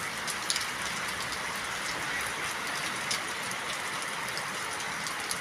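Steady rain falling on an afternoon at a duck farm, a dense, even patter on surfaces with scattered closer drops, continuous and without talk.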